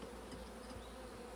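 Honey bees buzz in a hive box during a beekeeping inspection of honey frames, a soft, steady, close droning hum that carries on without a break and without speech.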